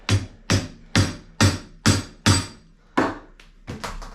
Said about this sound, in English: get yourself a sacrificial screwdriver. And you want to tap this in.